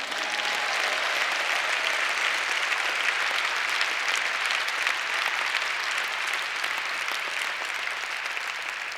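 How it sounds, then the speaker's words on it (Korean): A large church congregation gives sustained, dense applause at a Korean church revival centennial gathering, a thick continuous roar of clapping at even loudness with no voices over it. "감사와 찬송의 박수를 드립시다."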